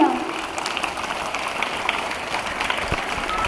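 At a school Bonalu celebration, an audience applauds children dressed as village goddesses, a steady crackle of many hands clapping at moderate distance with no break across the moment.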